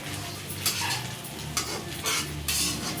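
Soaked cowpeas frying in hot tempering oil, heard as a steady close sizzle with recurring bursts of crackle and spatula stirring, no talking.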